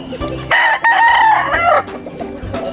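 A rooster crows once, loud and close, a strained cock-a-doodle-doo lasting about a second, framed by lower clucking and faint background noise.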